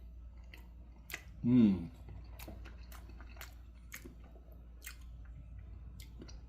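Close chewing on a bite of Reuben bake with corned beef, cheese, sauerkraut and mustard, soft wet mouth sounds with faint clicks around a brief appreciative hum.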